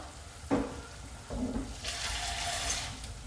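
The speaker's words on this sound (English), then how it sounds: "So what I do is put a bit of water as well." Water poured into a cooking pot for Vietnamese chicken stew (gà kho) comes in splashing bursts, a short splash followed by a longer steady pour, close and fairly loud with no speech.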